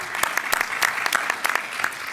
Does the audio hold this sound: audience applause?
yes